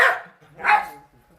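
Two sharp dog barks, loud and close, separated by a short pause.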